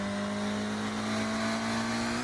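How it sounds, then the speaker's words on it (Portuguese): A lowered Volkswagen Jetta in a multiplayer racing video game drives with its engine holding a steady, loud tonal drone that slowly climbs in pitch while downshifting, heard alone without talk. "De quinta marcha reduziu para a segunda marcha. Chora, caixa de marcha."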